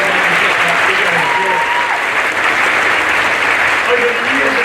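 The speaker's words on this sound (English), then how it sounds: "I want to give a big round of applause to everyone that volunteered tonight" An audience at a stage hypnosis show gives the volunteers a loud, continuous round of applause, with thick clapping throughout and voices faintly audible beneath it.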